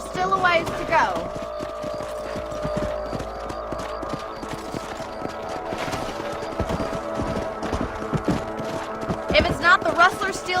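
Horses galloping in the western video game Red Dead Redemption, with clip-clop hoofbeats running steadily under game music, near and moderately loud, plus occasional louder bursts and voices talking.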